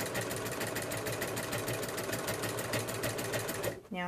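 A sewing machine stitches binding onto a quilt at a slow, steady pace, a close continuous mechanical hum and rapid needle chatter that runs evenly before stopping abruptly near the end.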